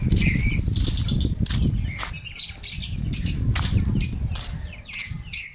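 Several small African lovebirds, freshly caught, chirp and tweet in quick, overlapping bursts close by, with rustling and fluttering underneath.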